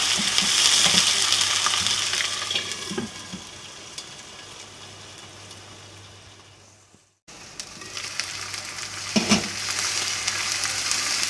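Garlic-ginger paste frying with onions in a pan for spiced tinda (round gourd) curry, a steady close sizzle with occasional stirring scrapes, broken by a brief silent gap before the frying resumes.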